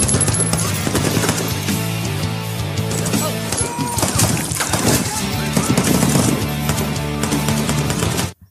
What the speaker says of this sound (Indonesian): Baku tembak menembak itu berlangsung sengit dan menegangkan.